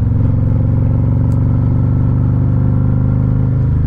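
A Harley-Davidson motorcycle rides steadily with a loud, continuous low engine rumble and road noise throughout, heard close up on a back detour over bumps, with no voices.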